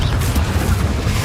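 A Confringo spell blast in Hogwarts Legacy lands as a loud, deep booming burst that fills the whole short moment with dense low rumble and crackle.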